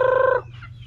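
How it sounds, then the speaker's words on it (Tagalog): A free-range fowl lets out one short, loud, harmonic call, close by and lasting under half a second, then fades into quieter background sounds. "Ayan, dami na nating manok dito."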